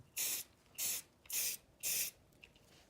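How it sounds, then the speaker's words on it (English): Rust-Oleum earth brown spray paint sprayed from a can in four short, evenly spaced hissing bursts, close and fairly loud, with quiet gaps between them. "I'm going to take it, I'm going to move this out of the way, and I'm going to spray it"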